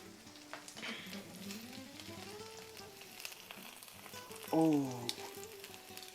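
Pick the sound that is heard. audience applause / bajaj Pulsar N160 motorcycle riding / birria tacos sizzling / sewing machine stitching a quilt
birria tacos sizzling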